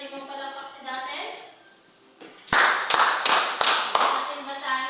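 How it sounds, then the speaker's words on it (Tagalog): A class of schoolchildren claps five times in a steady rhythm as a reward for a pupil, five sharp, loud bursts following a teacher's voice and children's chatter in a Filipino lesson. "bigyan nga natin ng 5 palakpak si Dasen"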